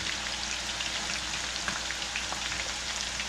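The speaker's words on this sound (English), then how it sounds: "So oil is hot. Now I'm adding up the onion." Sliced onion frying in hot oil for murgh kachee biryani, a dense, even crackling sizzle heard up close and continuous throughout, with no voices.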